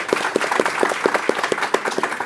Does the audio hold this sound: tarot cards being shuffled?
no